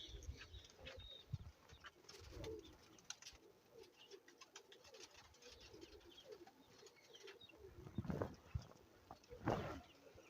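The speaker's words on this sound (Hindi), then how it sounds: "ये तस्वीर वाले कबूतर है" Faint, intermittent pigeon coos with soft scuffling and occasional wing flutters, quiet and fairly close.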